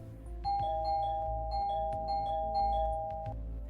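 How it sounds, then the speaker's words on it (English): A home doorbell rings without stopping in the middle of the night, a steady sustained chime tone with repeated ding strikes layered over a low hum, loud and close. "my doorbell is now constantly ringing"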